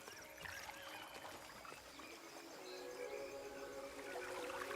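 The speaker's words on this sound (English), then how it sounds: "Hear the brook." A gentle brook trickles and burbles in the Soulframe video game, a soft, continuous watery ambience at low volume with faint splashy details, heard alone without talk.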